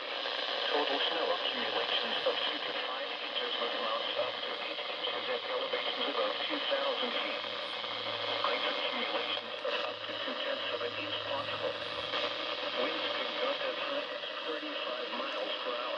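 Weather band radio broadcast received indoors in Georgia with poor signal, a continuous voice under steady hiss and static interference throughout.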